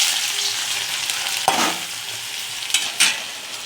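Finely chopped ginger and garlic frying in oil for torka, a steady close sizzle broken by a few sharp stirring scrapes and knocks, no speech.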